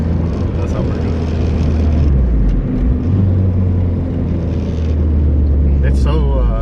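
A built SOHC turbocharged 1995 Dodge Neon four-door with a TD05 Mamba turbo at 13 psi, running on a dyno: a loud, steady engine roar that holds and rises through the pull, heard up close, with voices talking over it.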